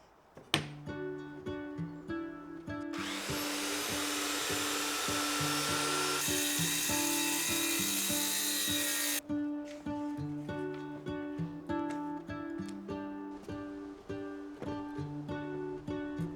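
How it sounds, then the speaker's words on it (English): A large, heavy MDF board has a piece cut off it: a harsh, steady rasping cut lasts several seconds under light background music, then stops. "So I think I'm just going to cut a piece off."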